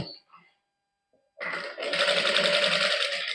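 A sewing machine stitches a sleeve cuff with a fast, close mechanical whir that starts abruptly midway and runs on steadily, after brief talking and a quiet pause.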